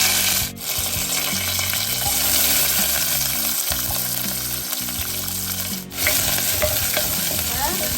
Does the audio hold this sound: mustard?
yes